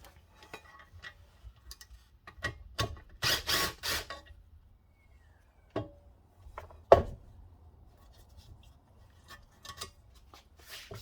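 Loosened bolts being removed with a tool from a three-piece OZ Monza alloy wheel, heard as scattered close metallic ticks and clicks with a brief ratcheting burst, against a quiet background.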